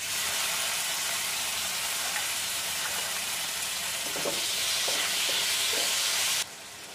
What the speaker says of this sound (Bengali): এবার টমেটো কুচিগুলো দিয়ে দেবো।